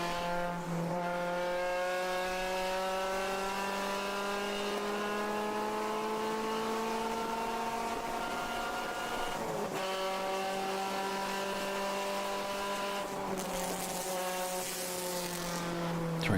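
Race cars in an endurance enduro at the Pittsburgh Grand Prix roar across the start-finish line, a loud continuous wall of engine drone with shifting pitch as several cars pass in succession.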